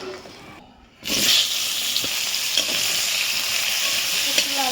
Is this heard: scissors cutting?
no